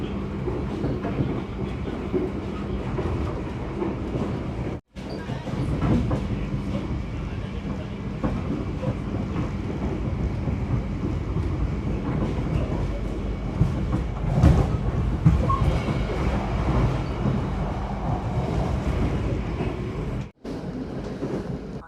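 A Sawunggalih executive-class passenger train rolls continuously on the rails at about 100 km/h with a steady rumbling roar and rhythmic clatter, heard from inside a carriage, briefly cutting out twice.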